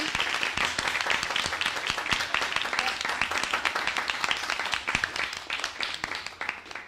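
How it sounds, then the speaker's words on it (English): A small council meeting audience gives a round of applause, brisk crowded clapping throughout that thins slightly toward the end. "Can we just get a quick round of applause for our awesome speaker, Chris, for volunteering?"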